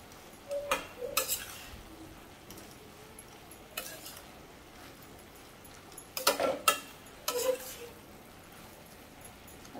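Kantoli vegetable is stirred as it dries in a pan over a slow flame, heard as a few scattered scraping and clattering stirs over a faint, quiet background.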